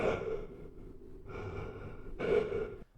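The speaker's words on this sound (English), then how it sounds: "I recorded myself breathing and then just tweaked the sound so it sounds like this" Processed breathing sound effect made from a recorded human breath for a horror video game: two or three heavy, close breaths with gasping inhales, loud and steady, no talk.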